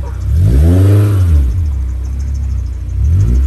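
A Honda S2000's engine revs loudly up close as the clutch engages, rising and falling once, then settling into a steady rumbling idle before revving again briefly at the end.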